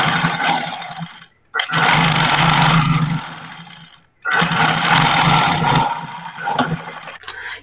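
A sewing machine stitching an Afghani salwar runs in two long, steady bursts with a short pause between them, then a third run that fades out, loud and close with no talking.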